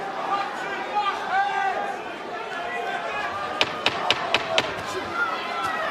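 A chopping right-hand punch by a boxer landing on his opponent in a boxing match, heard as a quick cluster of sharp thuds amid arena crowd noise and commentary talk.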